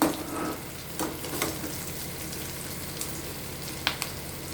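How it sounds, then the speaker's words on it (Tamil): Pumpkin stir-fry seasoned with salt is gently stirred in a pan, a soft continuous sizzle with faint scraping strokes and a few light clinks, quiet and close, without speech. "உப்பு போட்டு அப்படியே மெதுவாக கிளறி விடணும்"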